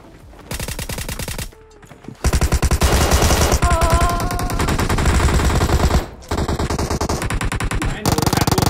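Close, loud bursts of M16A4 rifle fire in PUBG Mobile, several sustained rapid volleys separated by brief gaps.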